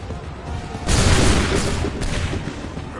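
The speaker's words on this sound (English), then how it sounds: "Open fire." A musket volley in Assassin's Creed 3 booms out around the one-second mark, a dense burst of gunfire that swells and rolls on loudly with scattered follow-up shots, beneath faint shouting.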